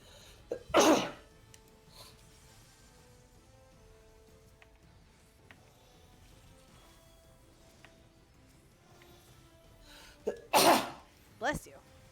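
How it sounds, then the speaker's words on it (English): Two sharp bursts of coughing from a person with the flu, the first near the start and a pair near the end, close and loud against a quiet background. "Still got the coughs from my flu."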